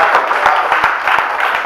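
An audience at a Hindi poetry recital claps, a loud, fairly rhythmic patter of hands with distinct individual claps spaced through the burst.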